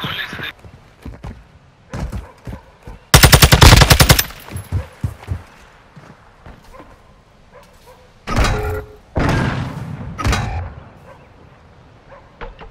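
Rapid automatic gunfire bursts in Call of Duty: Modern Warfare II, with one loud sustained burst and several shorter volleys and thuds spread across the clip, fairly close and punchy.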